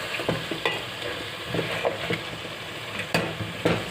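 Charsi karahi frying in oil in a wok, a steady sizzle broken by sharp scrapes and clanks of a spoon stirring at irregular intervals, close and fairly loud.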